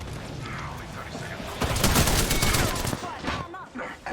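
Rapid bursts of video-game gunfire from an opposing team in an online shooter, loud and dense in the middle, with several close volleys over a steady background and voices talking.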